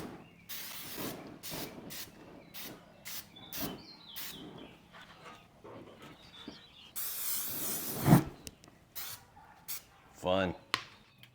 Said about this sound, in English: we're gonna hit everything up with a little bit of this PAM grilling high heat formula